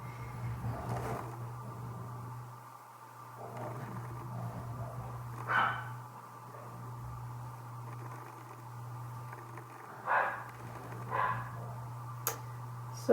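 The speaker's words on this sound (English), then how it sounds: "sorry about my dogs, they're kind of playing" Pet dogs playing in another room give a few faint, muffled barks and yips at a distance, spaced out over a steady low electrical hum.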